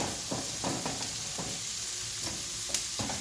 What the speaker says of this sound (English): Give them a stir and get them cooking. Let those colour for a minute and start to cook.